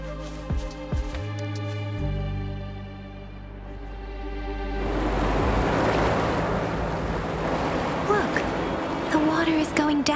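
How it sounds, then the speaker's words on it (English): Water drains away in the video game Wuthering Waves: a broad, steady rushing wash swells in about halfway through and keeps going, replacing the calmer tonal hum that came before. "Look, the water is going down."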